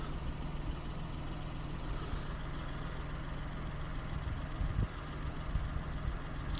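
A 2015 Citroen C1 1.4 HDi diesel city car idles in a low, steady, even drone, heard faintly and unchanging throughout, with no talk over it.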